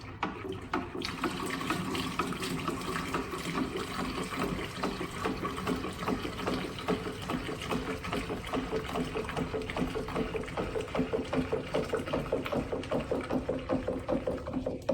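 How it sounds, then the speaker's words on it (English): Two liters of cold water pour into a pitcher of homemade liquid soap mixture made with oil and acetone, a steady gushing, splashing fill that continues at close range for the whole stretch. "we're going to give it a thermal shock by adding 2 liters of cold water right here into this pitcher"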